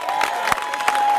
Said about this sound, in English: Let's clap it up for our young people